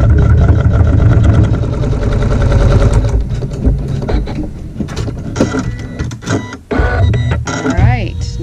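Embroidery sewing machine stitching over quilted fabric with backing tacked down, a loud steady mechanical whir and rapid needle chatter that shifts pitch and briefly pauses before resuming, with a voice talking over it.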